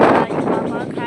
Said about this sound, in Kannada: ಗಾಳಿ ಭಾಳ ಐತಿ ಥಂಡಿ ಅದ